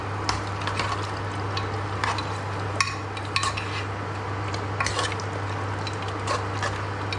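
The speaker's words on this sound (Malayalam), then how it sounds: "എന്നിട്ട് ഇളക്കുക നല്ലപോലെ." Garlic-ginger paste fries in a pan for a Palakkad-style biryani, with a steady sizzle running throughout. A spoon scrapes and clinks against the pan in irregular strokes as the paste is stirred, close and fairly loud.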